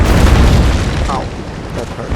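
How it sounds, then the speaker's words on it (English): Sailing-ship cannons firing in the naval combat game Naval Action: a loud, deep booming roar filling the start of the clip and slowly fading, with rumbling noise continuing to the end. "put the guns down and ready and fire"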